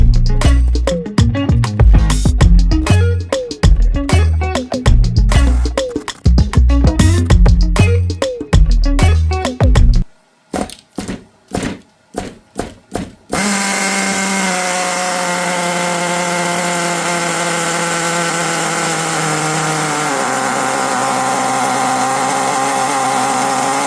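A Colt Nitro 10 RC nitro engine starts with sharp bursts and then settles into a loud, steady high-pitched whine. The tone holds near one pitch and dips slightly toward the end. No one speaks.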